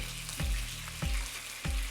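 Onions fry quietly in oil under a faint hiss, with three soft thuds of stirring spaced evenly, close and without any voices.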